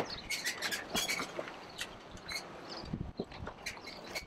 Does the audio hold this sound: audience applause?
no